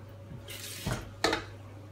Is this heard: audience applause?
no